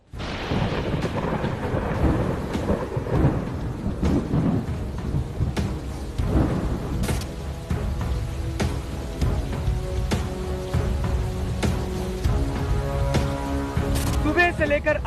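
Heavy monsoon rain pours over Mumbai in a loud, steady downpour, broken by repeated sharp thunder cracks and rolling rumbles that carry on throughout.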